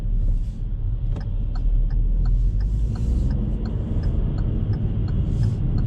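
A Kia Stonic 1.0 T-GDI mild hybrid with a seven-speed dual-clutch gearbox pulls away under light throttle, its cabin filled with a steady low engine rumble and faint ticking, and no one speaks.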